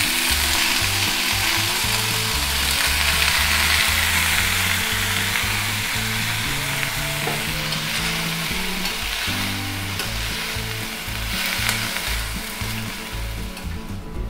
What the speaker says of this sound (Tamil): காரத்துக்கு பச்சை மிளகா போடுறேன், கருவேப்பிலை கொஞ்சம் சேர்த்துருக்கேன். கட் பண்ணி வச்சுருக்கிற கோஸை சேர்த்துக்கலாம்.